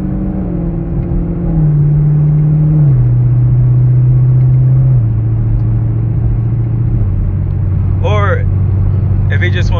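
A Chevrolet Camaro SS fitted with a Cherry Bomb Extreme exhaust holds a loud, close idle rumble, with the engine note stepping down in stages as it settles, while someone talks over it.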